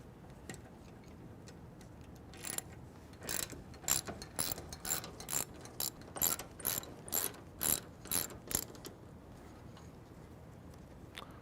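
A 13 mm socket ratchet working bolts on a Jeep Wrangler JK top, a run of about a dozen sharp ratcheting clicks in quick bursts, close and fairly loud in an otherwise quiet space.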